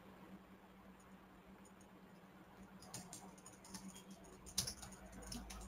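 Typing on a computer keyboard in an office, faint quick key clicks coming in short bursts over a low steady background hum.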